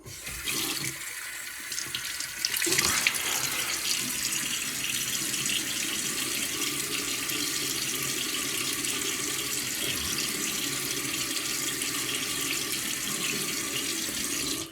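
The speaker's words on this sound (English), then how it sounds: "let me get my face wet" Tap water runs steadily into a bathroom sink while a face is wetted before shaving, a close, continuous splashing hiss after a brief clatter at the start.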